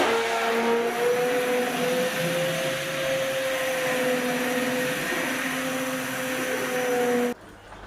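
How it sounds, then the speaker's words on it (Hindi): A blender motor runs steadily at high speed for several seconds, a loud whirring drone that cuts off abruptly near the end. "चलाइए ब्लेंडर।"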